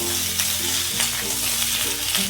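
Eggplant pieces frying in a pan with radish and potato, a dense continuous sizzle with stirring scrapes over a steady low hum, close and loud, no voices.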